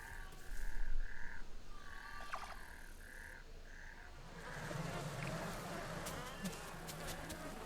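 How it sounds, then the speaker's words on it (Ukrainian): A frog croaks in the survival game The Isle, giving a few soft rhythmic calls in the first half against quiet ambient noise, later fading beneath faint rustling and a distant background hum. "І піді мною лежить жаба."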